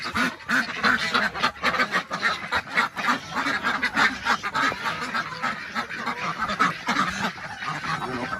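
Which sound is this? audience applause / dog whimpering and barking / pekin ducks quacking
pekin ducks quacking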